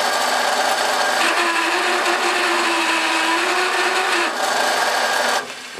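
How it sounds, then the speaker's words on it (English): Power drill running steadily as it bores into a greenhouse part, a continuous close whirring hum with a slight pitch shift midway, cutting off near the end. "So I'm just going to place the drill back in, and then just take a very, very slight amount off"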